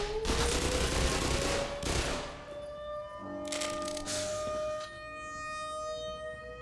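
Gunfire in the video game Black Mesa: loud rattling bursts of shots over a droning siren-like tone, then softer scattered cracks and ringing tones as the shooting trails off.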